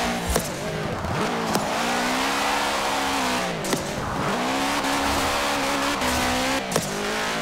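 Racing car engines in Forza Horizon 4 drone continuously, pitch sweeping up and down through gear shifts, with occasional short squeals and pops of tires.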